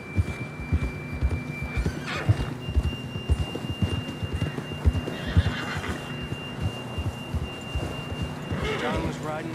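Horses in the open-world western game Red Dead Redemption 2, with a whinny and snorts over steady clip-clop hoofbeats as riders travel, while characters talk throughout.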